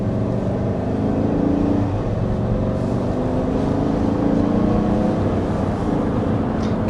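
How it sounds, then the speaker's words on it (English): A 2025 GMC Yukon's V8 engine revs and drones steadily, a dense low rumble with rising and falling harmonics, loud and close throughout with no talking. "Gotta love the V8"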